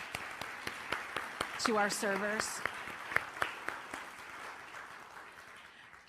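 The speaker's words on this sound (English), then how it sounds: "Can we give a round of applause" A church congregation at a Sunday service claps for volunteer servers who deliver meals to people in poverty; scattered, light claps sound at moderate distance while a person keeps talking over them.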